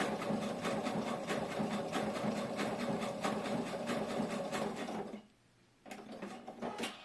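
A sewing machine runs a triple stitch on a shoulder bag with a rapid, steady mechanical rattle, close and continuous, stopping briefly before starting up again for a short burst.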